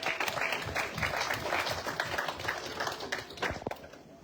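A church congregation at a seminar breaks into sustained applause, dense steady clapping that fills the room evenly from start to finish, with a few voices faintly underneath.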